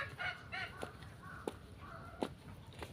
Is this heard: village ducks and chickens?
yes